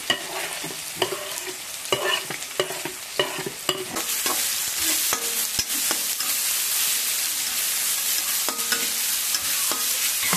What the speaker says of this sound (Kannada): ಸೇರಿಸ್ಕೊಂಡು ಈರುಳ್ಳಿ ಚೆನ್ನಾಗಿ ಬ್ರೌನ್ ಕಲರ್ ಬರುವ ತನಕ ಫ್ರೈ ಮಾಡ್ಕೊಳ್ಬೇಕು.